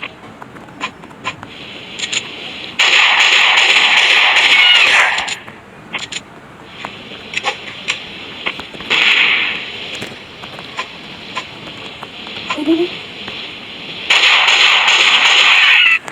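Sniper rifle fire in the mobile game Mini Militia, with repeated sharp cracking shots and loud bursts of noise coming in separate waves, mixed with scattered clicks and small game effects.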